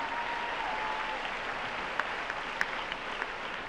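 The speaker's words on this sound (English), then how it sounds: "let's give one more round of applause to our freshman nominees" Crowd at a school homecoming assembly applauding the freshman nominees: a dense, steady wash of clapping that fills the whole stretch, with a few sharper claps standing out near the end.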